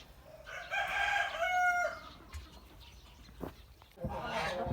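A Minorca rooster crows once among chickens in a summer poultry enclosure, a clear mid-distance cock-a-doodle-doo followed by faint clucking and rustling, with a brief burst of noise at the end.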